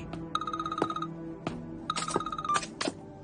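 Repeated electronic phone-style tones sound in short bursts with tonal harmonics, mixed with a few percussive clinks and thumps, moderately loud with no talking.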